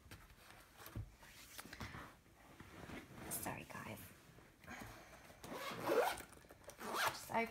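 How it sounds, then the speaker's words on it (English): A pencil case zipper is opened in a couple of quick scratchy pulls, soft and close, amid quiet rustling and handling with faint speech nearby. "opening my pencil case."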